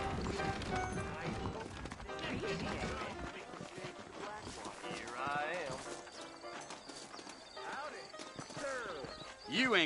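Saddled horses clip-clopping and shifting in the Western video game Red Dead Redemption, set in New Austin, hoof beats and a whinny mixed under music and characters talking throughout.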